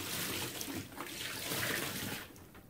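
Two gallons of water poured into a container for an expanding-material demo: a steady gushing splash of liquid filling the vessel, continuous and fairly close, tapering slightly at the end.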